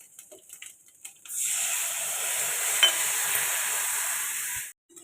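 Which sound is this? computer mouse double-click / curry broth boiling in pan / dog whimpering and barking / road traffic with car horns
curry broth boiling in pan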